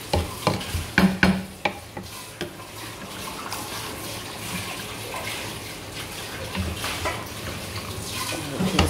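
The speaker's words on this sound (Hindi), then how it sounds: "ये मैं इसमें चावल ऐड कर रही हूँ। मैंने इसमें चावल ऐड कर दिए।" Rice is tipped into a cooking pot, giving a scattered patter and clatter with light watery sizzling and stirring, moderately loud and close, then a softer continuous wash of cooking noise.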